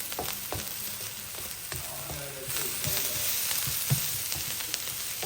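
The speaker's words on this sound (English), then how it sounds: "those onions have browned up nicely" Onions browning in a frying pan, a steady close crackling sizzle with scattered pops and stirring scrapes, no voices present.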